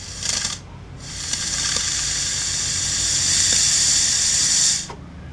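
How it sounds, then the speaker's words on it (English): Air blown by mouth through a fuel line disconnected from the pump of an Onan P218G engine on a John Deere 318 mower, heard as a short hiss, a pause, then a long steady hissing rush that stops abruptly, close and alone. "I want to take this fuel line that I disconnected off the pump and I'll blow up in there"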